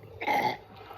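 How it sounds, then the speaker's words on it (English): A single loud, guttural burp after chugging a whole Coke, lasting about half a second and heard up close with no talking. "I gotta burp so bad."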